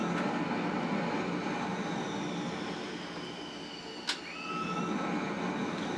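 Simulated F-15D Eagle jet taxiing on the ground in a flight simulator game, giving a steady, even engine hum throughout with one brief faint click and no talking.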